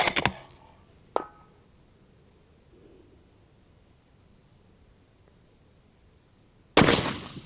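Long-range rifle shots at steel targets 500 and 700 yards out: a loud sharp report, then a brief faint ringing hit about a second later, a long quiet stretch, and another loud blast near the end.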